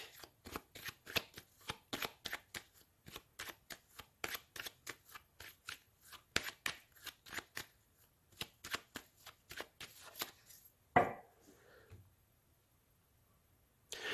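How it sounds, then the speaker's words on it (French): A tarot deck used daily for readings is shuffled and cut in a long run of crisp, rapid card riffles and flicks, close and clear, with one sharper slap near the end before the sound goes quiet. "je vais faire une coupe avec mon tarot que j'utilise tous les jours en consultation"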